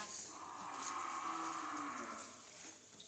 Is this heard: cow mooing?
yes